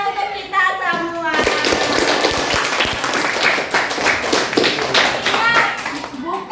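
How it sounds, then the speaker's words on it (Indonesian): A school class applauds itself after a group activity, a loud, lively burst of many hands clapping with children's voices chattering over it, following a brief moment of a teacher talking. "Tepuk tangan untuk kita semua."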